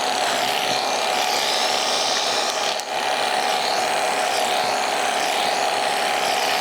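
A cordless, low-suction vacuum runs while a Yorkie is groomed, giving a steady, fairly loud motor whine with a sustained tone. One brief dip interrupts it midway, and no voices are heard.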